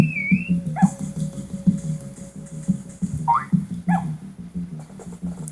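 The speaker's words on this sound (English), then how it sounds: "my dog was barking at the chickens" A dog in the Harvest Moon: A Wonderful Life farming game barks at chickens in short repeated yips over a looping background music bed.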